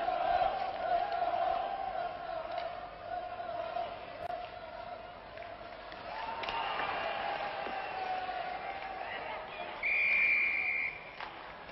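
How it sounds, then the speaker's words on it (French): A referee's whistle blows for a penalty during an Olympic ice hockey game between the USSR and Czechoslovakia, one short shrill blast heard some distance away over a steady arena crowd murmur, with a commentator talking. "une pénalité est sifflée contre le soviétique Romichevski"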